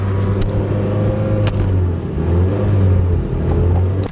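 A Mazda Miata engine runs with a steady low rumble throughout, loud and close, its idle wavering slightly without a clear cutoff.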